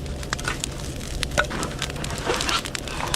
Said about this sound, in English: You can hear the water sizzling in the bottom of the barrel.